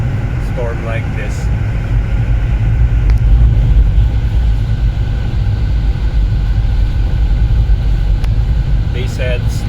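Car driving on a snow-covered road during an Iceland snowstorm, a steady loud engine and tire rumble with wind roar from inside the cabin, a voice talking over it.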